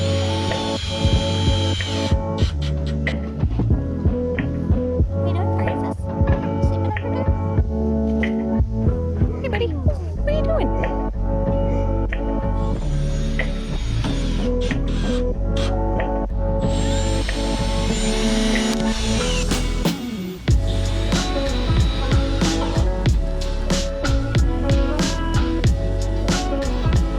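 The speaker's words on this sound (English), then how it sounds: "going to do screws through some of the flat members just right into the face frame, just to be able to snug it up in there." Screws are driven through flat frame members into the face frame of a van kitchen cabinet in a Ram ProMaster build, with bursts of power driver whirring and ratcheting alongside hammering and handling noises, while a person talks throughout.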